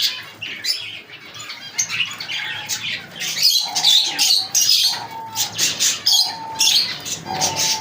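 Parrots chirp, squawk and tweet continuously in a busy aviary, many overlapping calls with wing flutters, loud and close with no talking.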